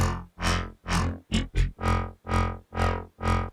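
A buzzy, phasey Serum synth tone repeats in nine short swelling notes, each with a sweeping laser-like chorus shimmer, loud and alone with brief gaps between.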